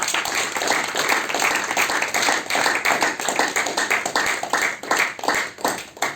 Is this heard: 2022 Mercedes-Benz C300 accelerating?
no